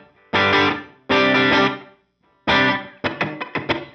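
Distorted electric guitar through a Line 6 Helix with a short-decay room reverb set for a slapback feel: two sustained strummed chords, a third, then a quick run of choppy stabs, each with a brief tight tail.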